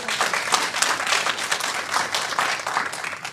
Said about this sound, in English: Give the Lord a clap for that.